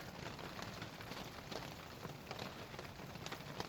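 Steady rain patters on surfaces at a backpacking campsite in Colorado's San Isabel National Forest as a constant, dense hiss, soft and even throughout with no voices.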